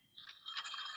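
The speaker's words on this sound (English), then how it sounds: "the thing that you hear is the friction as we push this one" A metamaterial layer being pushed by hand gives off a short, faint, dry scraping friction that rustles and grinds for about a second, close and quiet, with nothing else heard.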